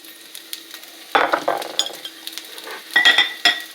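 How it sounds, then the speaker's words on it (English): Green peppers tipped into hot oil in a pan, bursting into loud close sizzling with clinks and scrapes of a utensil against the pan, the crackle swelling in short surges with no speech. "I'm going to go ahead and put my green peppers in the pan."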